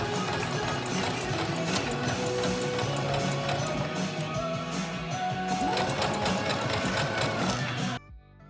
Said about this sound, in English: I sewed the seams up, and my poor sewing machine, you guys, was having so many issues this day